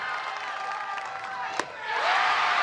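Florida home crowd at a college softball game against Arkansas cheers and roars, the noise building steadily and swelling loudest toward the end, with a sharp clap or knock standing out partway through.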